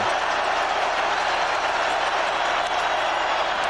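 Steady roar of a large baseball crowd in a stadium during a 2002 playoff game in Minnesota, a dense continuous wash of cheering and noise with no distinct breaks.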